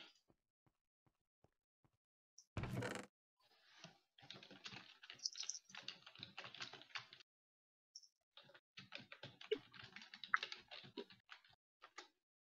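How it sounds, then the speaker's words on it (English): Fingers tap rapidly on a computer keyboard in two long runs of quick clicky keystrokes, separated by a short pause, close and fairly quiet, with no voices. "And there goes Speedy Fingers. Yeah, basically typing to Greg."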